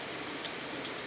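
Heavy rain pours during a storm as a dense, even hiss with no breaks, steady and moderately loud throughout.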